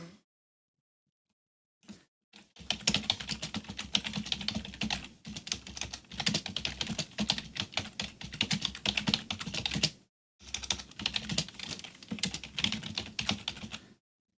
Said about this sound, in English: No, the typing.